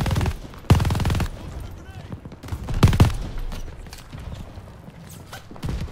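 A turret gun firing in Call of Duty: Vanguard, heavy booming bursts of automatic fire with rumbling low end, loud and close amid dense battle noise, while players talk over it.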